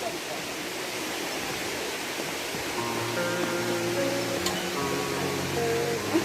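A Hong Kong waterfall roars as a steady, broadband wash of falling water, close and continuous, while a few faint voices and tonal sounds surface in the second half.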